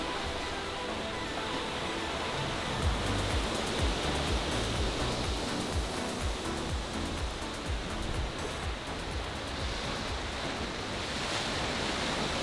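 Rough-sea ocean waves heard aboard the Disney Wonder cruise ship, a steady broadband wash of surf and wind holding at an even loudness throughout, with no talk.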